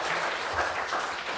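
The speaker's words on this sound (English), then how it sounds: "Oh, Colin, they were applauding for you, by the way." Audience applause at a Sunday church service, a steady wash of clapping from a gathered congregation lasting the whole moment, moderately loud and even with no voices over it.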